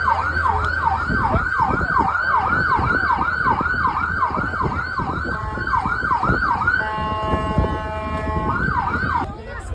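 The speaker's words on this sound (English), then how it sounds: "Ambulance." A loud ambulance siren wails in rapid repeating yelps close by, then shifts briefly to a steady tone before the yelping resumes.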